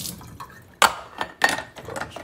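Parts of an Imusa electric espresso maker are rinsed under a sink tap, giving close splashes and drips with a few sharp clinks of metal against the basin.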